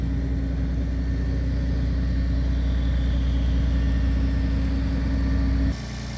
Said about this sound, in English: I'm going to start the tractor